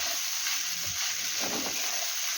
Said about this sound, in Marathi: ही भिजवलेली कुरडई आता या कांदा आणि चटणीमध्ये छान अशी मिक्स करून घेऊया